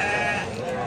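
A sheep bleats with a sustained, wavering cry at a Sokuluk livestock bazaar where rams and lambs are sold; close and clear, filling the brief moment with faint market noise beneath.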